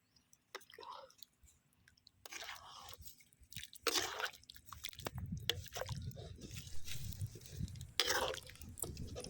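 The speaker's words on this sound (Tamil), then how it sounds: "பாருங்கள், கிரேவி நல்லா கொதிச்சிட்ருக்கு." Spicy Chettinad chicken gravy bubbling in a pan, with thick, low, irregular blurps and squelches building to a steady simmer and punctuated by a few sharp clattering bursts.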